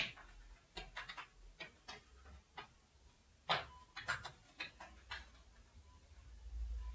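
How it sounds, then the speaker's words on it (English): Quiet, irregular scratching and scraping noises from a cat scratching come in short bursts, close by, with gaps of near silence between them. "That sound is my cat scratching."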